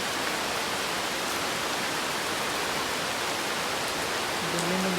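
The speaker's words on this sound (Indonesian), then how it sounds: "Hujan, guys." Steady rain falls through a forest near Kali Biru in Biak, a dense, continuous hiss of drops on leaves that stays loud and even throughout with no voices.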